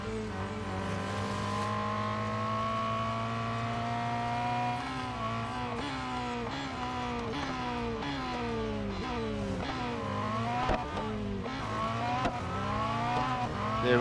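Race car engine in Real Racing 3 on the final lap of a race, a loud steady drone that climbs and drops through rapid gear shifts, with brief tire squeals near the end.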